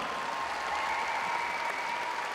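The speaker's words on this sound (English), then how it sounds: "Round of applause, please." Crowd applause at an ice hockey shirt launch event for the Sheffield Steelers, a steady, even wash of clapping from a gathered audience held at moderate level throughout.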